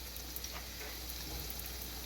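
Filipino egg rolls frying in oil give off a steady, even sizzle, close and continuous, over a low hum.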